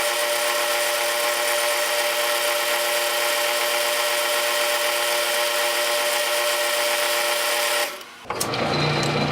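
A South Bend Model A metal lathe takes a cut to clean up a factory edge on stock, a steady bright whine and hiss that holds evenly and then stops abruptly near the end.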